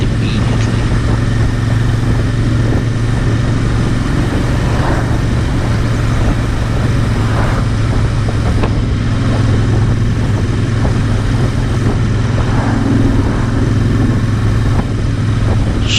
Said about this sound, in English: So I found myself trailing a Royal Enfield Classic 500